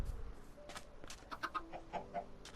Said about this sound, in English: over here, he's building a chicken farm